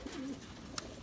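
A racing pigeon in a Kentucky loft gives one soft, low coo close by, followed by a brief click against quiet background.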